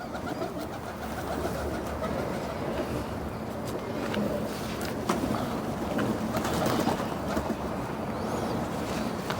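Low, soft cooing from a female pigeon repeats through the clip over a constant background rumble of wind or engine noise.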